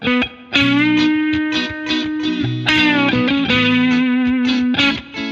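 Electric guitar with heavy distortion playing sustained notes and bends, loud and close, with a gritty, saturated tone and no talking.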